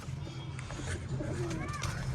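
Pigeons coo softly in a racing pigeon setting, low repeated coos with a few chirps over a busy background of voices and movement.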